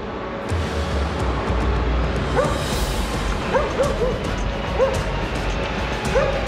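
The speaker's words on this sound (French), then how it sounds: "Même le chien, il est content derrière." A dog gives short yips and whimpers several times in the back of a moving 4x4, heard over a constant low engine and road rumble.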